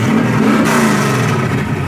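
A 1968 Camaro SS V8 revs hard at a car show, a loud, sustained roar rising and holding close by with no talk over it.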